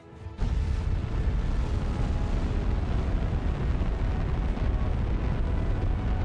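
A heavy rocket engine ignites in Kerbal Space Program 2, a sudden onset into a loud, steady, dense roar that holds unbroken throughout.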